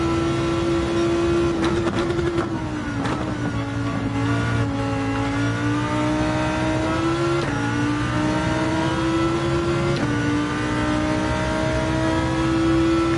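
A race car engine in Gran Turismo 7 drones loud and steady during an online race, its pitch climbing and dropping through gear changes with no talk over it.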